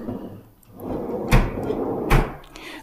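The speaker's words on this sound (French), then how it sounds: "deux tiroirs ici, tac." Wardrobe drawers are opened and closed, giving two sharp wooden knocks over a soft sliding rumble, close and fairly loud, with no talk.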